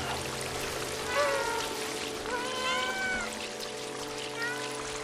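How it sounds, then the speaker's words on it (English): A cat meows in the video game Stray, a few short rising and falling mews over a steady ambient, trickling background, moderate in level. "you cat lovers will press the meow button constantly"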